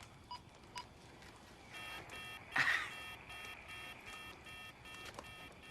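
Telephone dialing tones sound as a few faint, short beeps, then a brief brighter buzzing burst, all quiet against a soft background.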